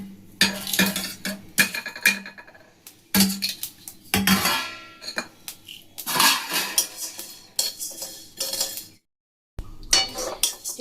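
Coriander seeds, cumin and cloves are dry-roasted in a pan, with a spatula repeatedly scraping and clinking against the metal in uneven bursts and a brief silent gap near the end.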